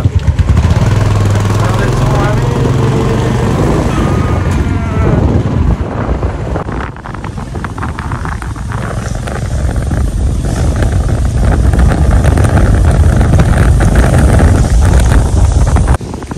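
A motorcycle engine hums steadily while heavy wind buffets the microphone throughout, loud and constant.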